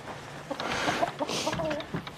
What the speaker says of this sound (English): Hi, chickens.